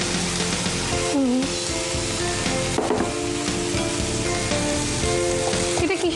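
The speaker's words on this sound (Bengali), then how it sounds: "এবার নারকোলের দুধটা দিচ্ছি, পুরোটা দেবো না, আমি একটুখানি দিচ্ছি" A small amount of coconut milk poured into a frying pan with a little oil crackles and sizzles in a loud, dense, continuous hiss, with brief spoon clinks and stirring noises, close up.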